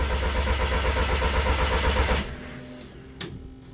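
A car engine cranks over as the key is turned, fuel injectors plugged in, on an engine with hidden crash damage; a loud, steady mechanical churn runs about two seconds, then cuts off, leaving a quiet room with a faint click.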